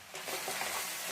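Tomatoes frying in oil for a cauliflower curry give a brief, quiet, steady sizzling hiss with no voices.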